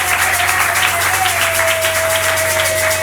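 Loud sustained applause from a church congregation acclaiming the Lord during a worship service, dense continuous clapping close by, with a faint tone lingering underneath.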